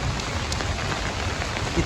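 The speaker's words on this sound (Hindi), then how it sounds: "इतनी तेज़ बारिश हुई है जी ڈڈیال शहर में।" Heavy rain pours down in Dadyal town, a dense, steady hiss of drops pattering on surfaces close by, with a few sharper splashes.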